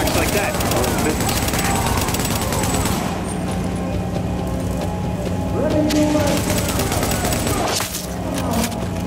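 Gunfire in Tom Clancy's The Division, in a subway morgue in Manhattan: a dense, continuous clatter of shots that holds for most of the stretch, with voices talking over it.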